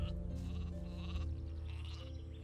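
Gothic 2 sheep bleat over a low, droning game backdrop, the wavering animal calls repeating at moderate distance with no talking.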